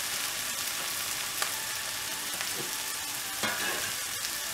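Tomato and brinjal frying in a pan for a South Indian poriyal, a continuous close sizzle broken by a few stirring scrapes and clinks, with no voices.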